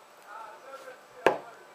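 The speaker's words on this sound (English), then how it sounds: "I'm like tapping that screen. You can hear it" A finger taps once on a phone touchscreen, a single sharp, close knock that stands out over a faint murmuring background.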